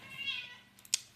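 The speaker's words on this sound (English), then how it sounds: "That's my cat, by the way" A house cat gives one soft, short meow close by, then a faint brief click follows in an otherwise quiet room.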